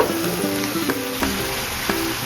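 Chicken liver fry bubbling in its own rendered fat and oil in a pan, a steady close sizzle with a few faint clicks of a spoon against the pan.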